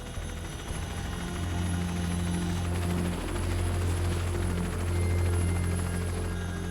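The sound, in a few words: military helicopter in flight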